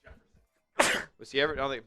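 One sudden loud sneeze breaks in between stretches of someone talking, close and abrupt, followed by more speech.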